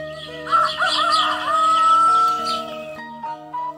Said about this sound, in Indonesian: Pagi itu kokok ayam bersaut-sahut, nyaring menandakan pagi hari sudah begitu terang.